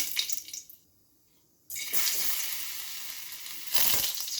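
Mustard seeds hit hot oil in a pan with a loud burst of sizzling and spluttering, then a short hush before the crackling surges back, steady and close, flaring again near the end.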